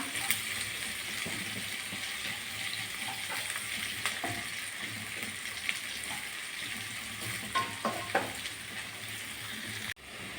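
Okra sizzles steadily in a hot pan while being stirred, with a continuous frying hiss broken by scattered scrapes and clinks of the spoon, close and fairly loud, ending in a brief drop.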